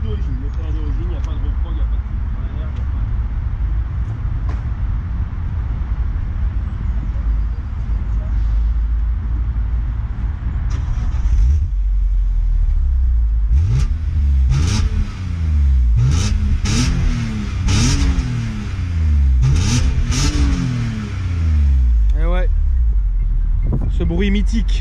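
A stock BMW M3 E46 engine with original exhaust revs repeatedly, loud and close, each rev rising and falling in pitch with a metallic edge over a steady idle rumble, while people talk nearby.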